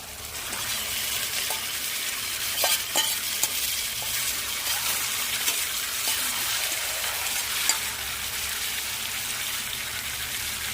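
Onions fry in hot oil in a pan with a loud, continuous sizzle and crackle, scattered small pops and occasional spoon scrapes throughout, with no voices.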